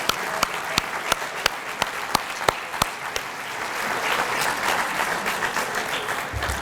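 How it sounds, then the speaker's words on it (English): An audience at the Canadian Lacrosse Hall of Fame induction ceremony begins with scattered, separate claps that swell into sustained applause from a large crowd in a hall. "Give them all another round of applause."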